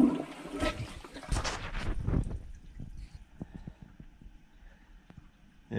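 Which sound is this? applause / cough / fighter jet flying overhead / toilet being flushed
toilet being flushed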